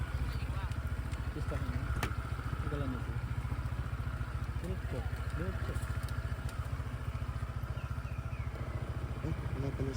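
Motorcycles idle and crawl up a steep, narrow, slippery rocky trail near Tanay, Rizal, a low, rapid engine putter running steadily close by while a person speaks over it.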